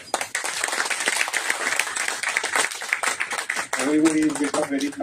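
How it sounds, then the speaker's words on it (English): A university innovation council audience applauds for several seconds, a dense steady patter of clapping that fades as a voice begins speaking near the end. "Round of applause."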